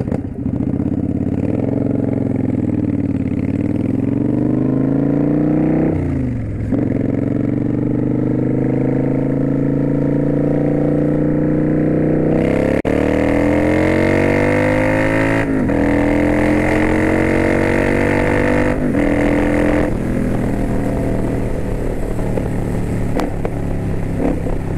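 A Kawasaki Vulcan 900 Custom Special Edition cruiser motorcycle pulls hard on open road, its engine note rising steadily through second, third and fourth gear with brief dips at each shift, loud and close throughout.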